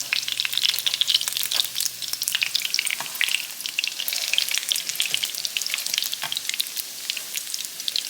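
Arepas fry in a pan after being flipped, giving a close, dense crackling sizzle with constant spitting pops, loud and steady throughout without any voices.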